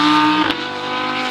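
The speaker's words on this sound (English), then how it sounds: "Cars in the background, man." Cars circling the Atlanta Motorsports Park track, a loud steady engine drone with a sustained harmonic tone that rises briefly near the middle before settling back, close and continuous with no talk.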